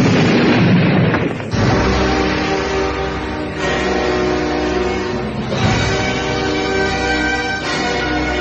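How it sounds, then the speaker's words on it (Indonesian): A loud explosive boom from two fighters' hands clashing in an audio drama, followed by ringing, booming reverberations that rise again in several heavy bursts. "ledakan keras terdengar dengan hebat akibat benturan tangan dari kedua tokoh ini"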